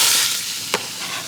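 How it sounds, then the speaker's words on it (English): Onions sweat in a pan over drippings and fond with a continuous soft sizzle, joined by one brief clack near the middle. "Add in onions, and I'm gonna sweat this down."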